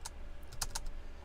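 Keys tapped on a computer keyboard, a short burst of about five or six close clicks in an uneven rhythm over faint background hum.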